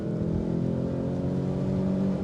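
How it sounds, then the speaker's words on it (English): A Volkswagen Golf GTI Mk2 engine with a misfire drones steadily under acceleration. It is a close, continuous low rumble with a faintly uneven, fluttering texture and no voices. "it's misfiring a little bit. It's a bit jumpy under acceleration sometimes."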